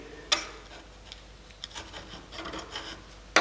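Steel vernier caliper jaw scratching a scribe mark onto metal stock during fabrication, heard as faint close rasping strokes with a few small ticks and a sharper scrape at the end.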